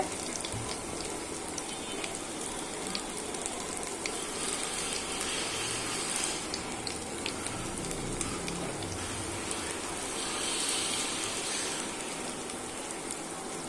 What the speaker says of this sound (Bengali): দুই পিঠ লাল করে ভেজে উঠাতে হবে।